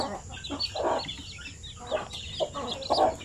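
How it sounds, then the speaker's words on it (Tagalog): Shamo Aseel hen clucking close by while her chicks peep in high, busy chirps, the calls coming in short overlapping bursts throughout. "Yan ang mga sisiw niya."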